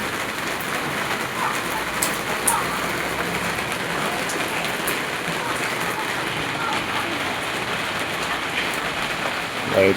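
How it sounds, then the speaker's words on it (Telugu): Light rain falls outdoors as a steady, even hiss of drops, with a few slightly louder patters standing out, continuous and moderately close throughout with no talking. "లైట్ వర్షం పడుతుంది."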